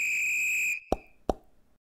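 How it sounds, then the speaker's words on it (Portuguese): Start sound in a Pygame game: a steady electronic whistle tone holds for under a second and cuts off, followed by two short sharp plops, loud and alone with no talking. "nós já conseguimos o som de start ali, do nosso apito quando o jogo começar"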